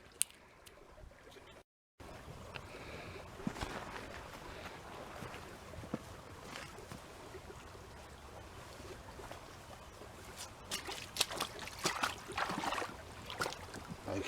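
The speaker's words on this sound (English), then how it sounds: "So I'll pan that bit out and see how we go." Creek gravel and water swish and slosh in a gold pan outdoors, a steady wet swirling with scattered knocks of stones and some wind rumble, close and continuous after a brief silence.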